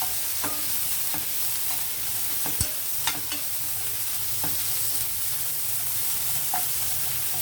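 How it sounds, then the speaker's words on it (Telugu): Onions frying in a pan for a home cooking recipe, a steady broadband sizzle with occasional scrapes and taps of a spoon stirring, close and continuous with no talking. "ఉల్లిపాయలు వేద్దామండి ఉల్లిపాయలు కొంచెం వేగనెత్తాం"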